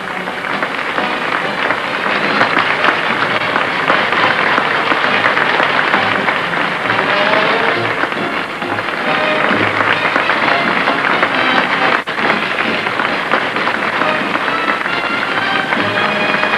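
A capacity crowd at the opening ceremonies of the 1963 Blacklock bowling finals applauds the contestants, a dense, steady roar of clapping that holds loud and unbroken throughout.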